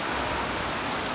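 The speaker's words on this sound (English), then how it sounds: "This is hurricane rain." Heavy hurricane rain pours steadily in Jamaica, a dense, even broadband hiss of downpour drumming on surfaces, close and constant for a short stretch with no voices.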